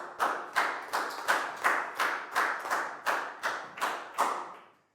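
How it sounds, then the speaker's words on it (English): Students in a Year 4 maths classroom give a round of applause: about a dozen separate, evenly spaced hand-clap bursts, each sharp and crisp with a short decay, close and moderately loud, stopping just before the end. "High five and a big round of applause for Pat, please, guys"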